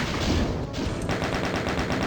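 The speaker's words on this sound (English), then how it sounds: "Gonna chain gun some stuff down." Chaingun fire in Doom 2 on the Alien Vendetta map Hillside Siege, a fast steady rattle of rapid shots that keeps going through the whole stretch with dense game noise behind it.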